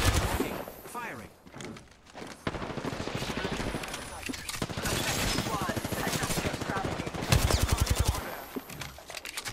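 Rapid automatic gunfire rattles almost nonstop in an Apex Legends match, dense bursts of shots close and loud, with a player talking over the shooting.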